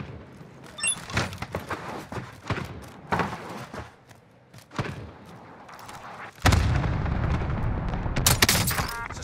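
Cluster strike bombardment in Call of Duty Warzone on Rebirth Island: a string of sharp close explosions and shots, irregular and punchy, building into a dense, loud roaring barrage of blasts in the final seconds.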